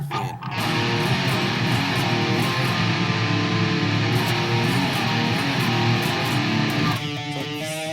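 Heavily distorted electric guitar strums dense, clashing black metal chords in a continuous wall of sound, loud and close, ending with a brief ringing, uneasy note.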